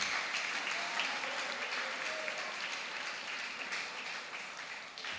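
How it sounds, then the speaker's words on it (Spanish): A church congregation applauds during a Spanish-language sermon, a dense, sustained wash of many hands clapping that stays fairly loud and tapers slightly toward the end, with faint voices mixed in. "Un aplauso a Cristo Jesús, por favor."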